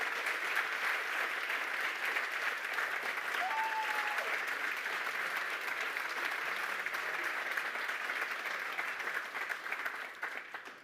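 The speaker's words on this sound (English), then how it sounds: "one more round of applause" A conference audience applauds steadily, a broad wash of clapping that holds level and tapers slightly at the end.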